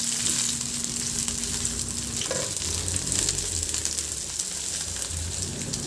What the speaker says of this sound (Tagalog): at igisa ko na rin yung bawang. Isunod ko na rin ilagay yung sibuyas